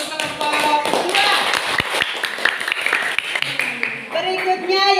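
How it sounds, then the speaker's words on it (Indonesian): A classroom gives a short round of applause for group 2, scattered hand claps close by mixed with voices talking and some taps. "Tepuk tangan untuk kelompok 2"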